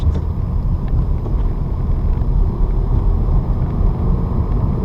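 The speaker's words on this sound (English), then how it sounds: "I'm going to clutch up to the bite point, then give gas. Keep it in first gear, get across." A manual transmission car accelerates in first gear across a long intersection, its engine a steady, loud low drone heard from inside the cabin with no gear change.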